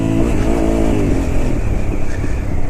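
A Suzuki SV650S 650cc V-twin motorcycle engine revs loudly and close, its pitch rising and falling in a throaty, continuous drone with no talking.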